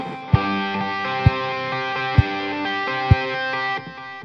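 A distorted electric guitar plays in a halftime feel, with sustained chords ringing under four evenly spaced heavy drum hits that land about once a second and stop together at the end.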